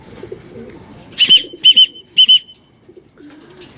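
A racing bird circling over a pigeon loft during a three-lap race gives three pairs of sharp bird calls, with quieter rustling and low outdoor noise between them.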